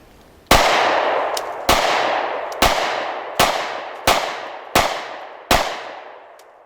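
A Smith & Wesson M&P Shield 9mm pistol fires seven sharp, loud shots at a steady pace of roughly one per second outdoors in cold weather, each with a ringing decay.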